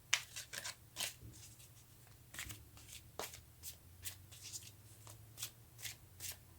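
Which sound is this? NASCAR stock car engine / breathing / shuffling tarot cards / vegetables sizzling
shuffling tarot cards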